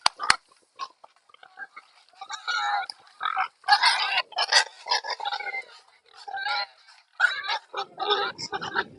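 Pigs in a farm pen squeal and grunt in irregular bursts, some close and sharp, others overlapping into a noisy chorus, with brief pauses between outbursts.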